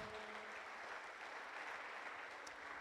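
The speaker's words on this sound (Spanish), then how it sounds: "Dale un fuerte aplauso a Jesús." A church congregation applauds steadily, a dense wash of clapping heard at moderate distance with no talking over it.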